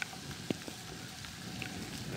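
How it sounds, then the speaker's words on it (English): Steady rain patters down outdoors, a soft continuous wash with a few louder drips and taps standing out, no voices. "the rain's really starting to pick up"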